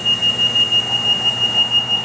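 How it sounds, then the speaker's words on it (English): A high-pitched electronic alarm on a Plasma-Therm System VII reactive ion etcher beeps in a rapid, steady repeating pattern over a low mechanical hum after its vacuum pump is switched off. "it turns red and the alarm beeps."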